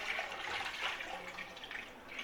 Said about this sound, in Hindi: अभी हम इसमें पानी डालने लगे हैं पुलाव के लिए।